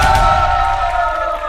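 Spectators at a rap battle cheer and shout in a loud, dense roar that tapers slightly toward the end.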